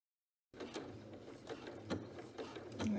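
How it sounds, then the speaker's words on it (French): A sewing machine stitches a jersey face mask on a stretch stitch setting, starting after a half-second of silence with a steady mechanical whir and light rhythmic clicking, close and moderately loud with no talk. "je vais coudre avec le point 10"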